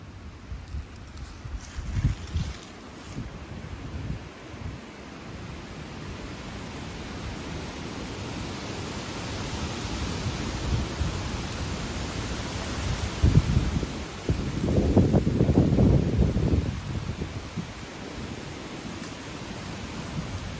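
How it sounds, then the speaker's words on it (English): Strong, gusty wind blows through the trees at the corner of a wood, a steady broadband roar with rustling that swells louder in gusts toward the end, with no talking. "The wind has been blowing really hard today"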